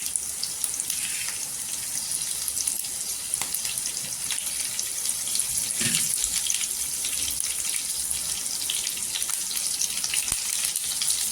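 Garlic, curry leaves and green chili tempering fry in hot oil in a home kitchen, a steady close sizzle crackling evenly throughout with no talk.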